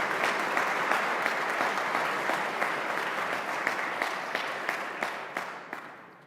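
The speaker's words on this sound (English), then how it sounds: "Let us give all of these young men a round of applause as we acknowledge their accomplishments." A large audience claps steadily at a Class of 2021 school awards assembly, dense sustained applause with scattered sharper claps that slowly tapers off toward the end.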